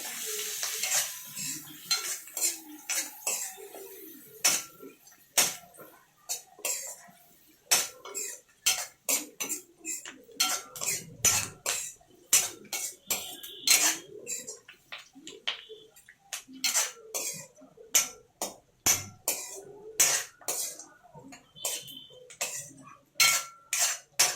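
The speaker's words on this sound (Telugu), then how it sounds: "కొంచెం పసుపు, వేసుకొని ఇలా కలుపుకోవాలండి." A spoon scrapes and clinks against a pan while turmeric is stirred into tomato egg curry, a steady run of sharp metallic taps and scrapes over faint frying.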